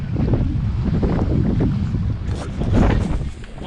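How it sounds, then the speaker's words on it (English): Steady north wind gusting over a lake during a sailboat outing, a continuous broadband rush with buffeting against the microphone and water sloshing beneath, no talk. "When we get a north wind like this"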